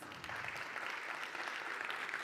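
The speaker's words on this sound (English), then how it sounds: "You have to keep the applause going" An audience applauds steadily to welcome VIP guests at a launch event, a dense, even wash of clapping throughout that sounds somewhat distant and soft.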